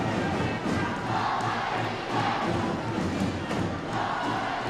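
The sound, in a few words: Camaligan basketball crowd cheering and chanting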